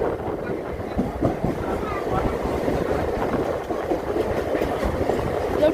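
A Churchgate–Virar fast local train runs at speed, its loud rumble and rattling wheels filling the carriage in a continuous roar, with faint voices underneath.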